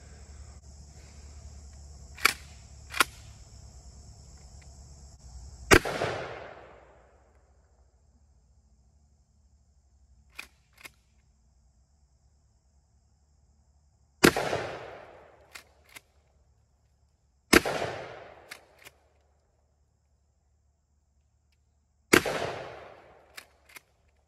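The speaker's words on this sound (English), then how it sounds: "this Mossberg 500 20 gauge shotgun, and I got my Glock 19. We're gonna shoot some jugs and some melons" Shots from a Mossberg 500 20 gauge shotgun and a Glock 19 fired at jugs and melons outdoors. Four loud, close booms come at spaced intervals, with sharper smaller cracks and quiet insect-like hum in between.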